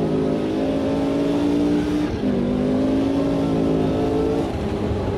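Race car engine in Automobilista 2 climbing a hill, a loud steady harmonic whine that rises in pitch, drops briefly at a gear change, then climbs again, with no talking.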